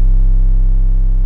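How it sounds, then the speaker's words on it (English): Deep 808 bass hit from a sample pack, a single sustained, loud, booming low tone held steadily throughout, heard alone. "here we have two more 808s coming in. The first one is gonna sound like this."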